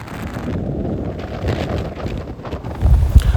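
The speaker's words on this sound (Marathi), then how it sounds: "देव रोडला लागल्यानंतर वातावरणात थोडासा बदल आणि वाऱ्याचा वेग जरा जास्त वाटायला लागला." Strong wind buffets the microphone during a motorbike ride along Dehu road near Pimpri Chinchwad, a steady low roaring rush that swells louder toward the end, with no talk.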